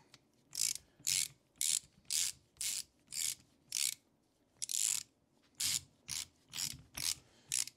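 A ratchet tightens Allen bolts on a Jaguar air suspension. There are about fourteen short, crisp clicking bursts in an uneven rhythm, close up and fairly quiet, with brief pauses between strokes.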